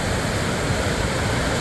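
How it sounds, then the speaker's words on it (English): Lower Falls of Gold Creek in Golden Ears Park, British Columbia, pours as a steady, loud, close waterfall roar, a dense unbroken rush of water with no voices. "Lower Falls of Gold Creek, Golden Ears Park, British Columbia, Canada."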